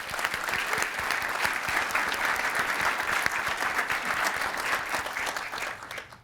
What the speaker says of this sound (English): So how about an extra round of applause for them?